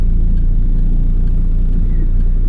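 A 1987 Pontiac Fiero drives along with a steady, loud low engine rumble heard from inside the cabin, constant throughout with no talk.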